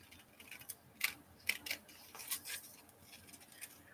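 Scissors snipping through fabric while cutting out a heart-shaped pillow or pincushion, a series of crisp close clicks and cuts spaced irregularly in a quiet room.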